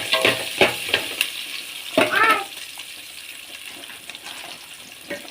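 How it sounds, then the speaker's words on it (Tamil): Onions fry in a home kitchen pan, with a low sizzle under several clear clacks of a stirring spoon and a brief vocal sound partway through, then a quieter simmering hiss. "வெங்காயம் நல்லா போட்டுக்கணும்."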